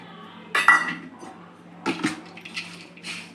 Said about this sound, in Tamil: இப்போ வந்து இந்த சுகர் ஆட் பண்ணிக்கிறேன்